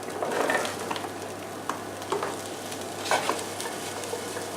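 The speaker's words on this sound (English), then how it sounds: "You can add the mushrooms now." Mushrooms are tipped into a pan of frying onions, setting off a steady, close sizzle with scattered stirring scrapes and soft bumps, heard alone without talk.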